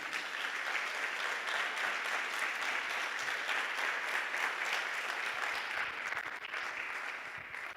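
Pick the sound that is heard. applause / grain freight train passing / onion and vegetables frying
applause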